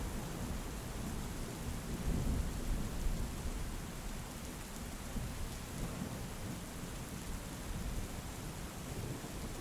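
Heavy rain pours steadily in a thick wash of noise while low thunder rumbles underneath, swelling briefly and then settling.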